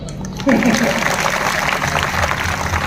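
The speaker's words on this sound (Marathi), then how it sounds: "टाळी सुद्धा वाजव" Abrupt, sustained hand clapping breaks out from a kirtan audience, a dense wash of many hands close by that continues steadily after a quiet opening moment, with a voice briefly heard near the start.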